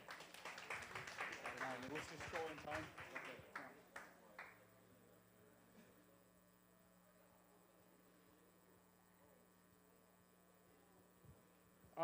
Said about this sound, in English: big round of applause to Paylink